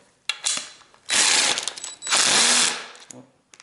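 A DeWalt DCF885 18V cordless impact driver drives a 6x60 mm screw in two loud rattling hammering bursts of about a second each, with short clicks before and after.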